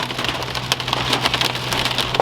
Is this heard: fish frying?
no